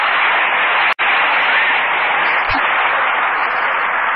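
Studio audience applause on a radio show, a steady dense wash of clapping heard alone at even loudness for several seconds, with a brief dropout near the start.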